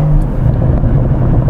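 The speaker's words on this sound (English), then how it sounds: "I've activated our exhaust system, and just listen to the gurgles" A Rolls-Royce Ghost Black Badge fitted with a Novitec exhaust system gurgles in a steady, deep, close rumble that holds level throughout, with no talking.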